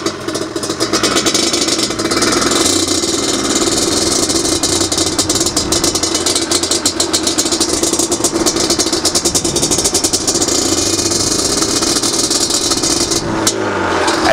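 Yamaha Banshee ATV engine while riding: a loud, close two-stroke drone with a buzzy rattle that holds steady almost the whole time and shifts slightly near the end, with no talking.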